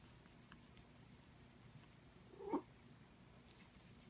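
A single short cat vocalization rises briefly out of a quiet, steady room hum, close by and soft, with nothing else around it.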